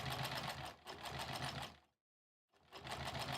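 A sewing machine stitches quilt rows in fast, even bursts of needle chatter, close and clear, stopping briefly for half a second before running again.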